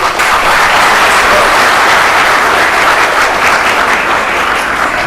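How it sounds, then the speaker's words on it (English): Loud, sustained applause from a large audience, steady clapping filling the whole stretch without pause. "Thanks for your applause."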